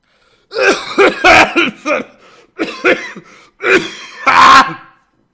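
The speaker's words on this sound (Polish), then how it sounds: "boli cię gardło, zrób kaszlenie na Overwatchu" Repeated coughing and throat-clearing bursts from a person with a sore throat, several harsh hacking fits in close succession, loud and near, with no other sound between them.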